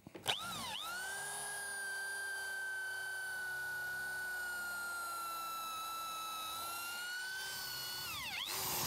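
A drill fitted with an AURORA artu bit boring into wood, producing one steady, high-pitched whine that holds level for several seconds and then winds down sharply at the end, heard close and alone.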